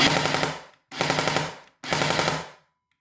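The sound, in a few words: Specna Arms SA-E06 EDGE 2.0 airsoft gun firing full burst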